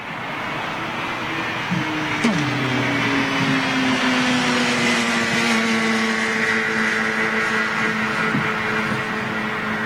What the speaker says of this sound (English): GE90's firing up